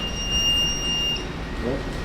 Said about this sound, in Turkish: Alarm var.